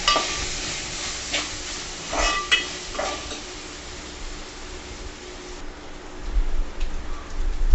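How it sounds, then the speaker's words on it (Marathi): Mutton keema frying over a low flame with turmeric being stirred in, producing a soft, steady sizzle with occasional spoon scrapes and taps against the pan, close up, with no voices. "आता त्यात घालूयात हळद, हळद एकत्र करून घ्या."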